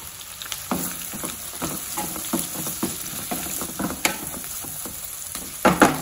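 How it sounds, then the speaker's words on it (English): Chicken 65 sizzles in hot oil with red chilies, green chilies and curry leaves, a continuous frying crackle broken by frequent sharp stirring clinks and scrapes. "fry for 2 minutes."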